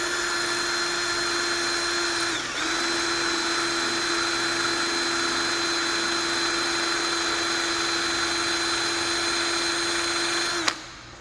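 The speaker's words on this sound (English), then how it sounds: "we're going to set up with a drill bit and we're going to start drilling" A drill grinds steadily into metal with a loud, sustained whine, briefly dipping once early on before running on and stopping abruptly near the end.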